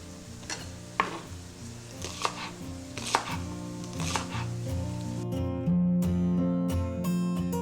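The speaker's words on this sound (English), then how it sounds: "So we're going to go ahead and chop these up." Knife chops through rinsed green onions on a cutting board in a steady run of crisp, evenly spaced thuds, followed by a loud sizzling pan where ground beef browns for fried rice, no talking.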